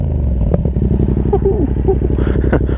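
Yamaha MT-07 fitted with an SC Project Conic exhaust, engine idling with a steady deep low rumble and a brief blip of revs, close and loud, no talk.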